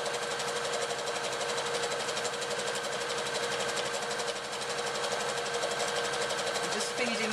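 Sewing machine stitching a tea cosy with wadding runs in a steady, fast mechanical whir throughout, close and continuous, with a voice talking over it.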